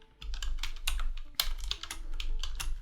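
Keys clack in quick, uneven bursts on a computer keyboard as a keyword is typed, close and crisp with short pauses between strokes and no voices.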